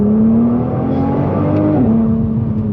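A Nissan GT-R NISMO engine pulls hard on an open road, a loud, steady in-cabin drone that climbs in pitch, then drops briefly with a gear change before rising again.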